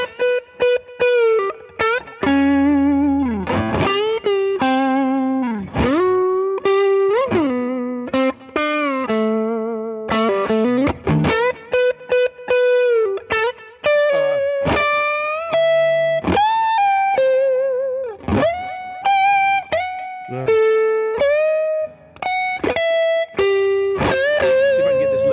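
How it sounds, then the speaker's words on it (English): An electric guitar lick played through distortion and chorus effects, a loud, close run of bending, sustained lead notes and quick phrases lasting about twenty-five seconds, with no talking. "Do we have a good angle of him playing guitar?"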